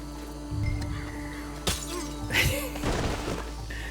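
A glass smashed over someone's head in the Red Dead Redemption 2 video game: a sharp crashing shatter cuts through a low background hum, followed by scattered tinkling and thumping.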